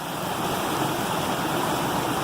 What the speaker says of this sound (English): here right here by the brook, the wind picks up just as soon as I start recording